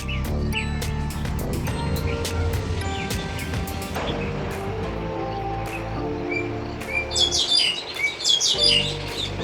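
A talking myna bird chirps up close, giving a busy run of sharp tweets and whistles with some rustling and a burst of bright, rapid calls near the end.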